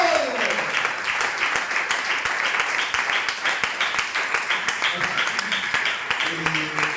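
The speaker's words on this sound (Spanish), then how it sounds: "Le da un aplauso al Señor" A church congregation applauds for the Lord, a dense, continuous roar of many hands clapping with voices mixed in underneath, loud and steady throughout.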